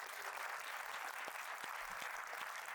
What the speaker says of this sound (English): another round of applause for this great.